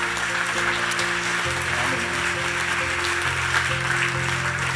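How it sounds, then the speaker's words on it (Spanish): Church congregation applauding together during a service, a sustained wash of clapping at moderate level with a steady low musical drone underneath and no speech. "Dale un fuerte aplauso al Señor."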